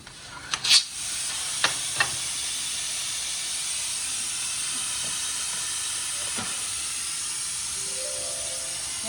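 A pressure cooker on a stove vents steam in a steady, loud hiss that fills the whole stretch, opening with a few sharp clicks and clatters before settling into continuous rushing release.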